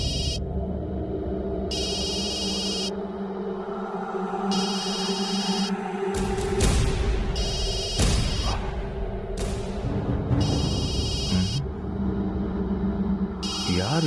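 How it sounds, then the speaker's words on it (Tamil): A phone rings in repeated bright electronic bursts, about five evenly spaced double-trill cycles, over a low rumbling background with some dramatic music swells in a TV serial scene. "யார் இந்த நேரத்தில் நமக்கு ஃபோன் பண்றது?"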